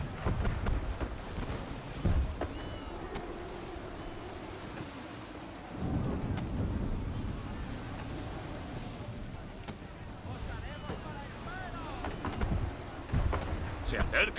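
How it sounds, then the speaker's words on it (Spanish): A storm at sea in the video game Assassin's Creed III brings a steady wash of rain and deep rolling thunder in long swells, with faint voices underneath. "Acerca una tormenta, capitán, y de las grandes."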